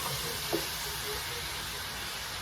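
Taro and bok choy stew with crayfish and green chili pepper simmering in a pot, giving a steady, soft sizzling hiss with a faint clink early on and no talking.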